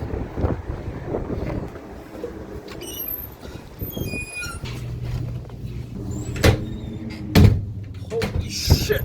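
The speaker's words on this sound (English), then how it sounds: "The wind is so strong." Strong wind gusts buffet the microphone in an open outdoor spot during a road trip in a cheap used Volvo, with rumbling low roar, scattered thumps and faint high squeaks, and no voices.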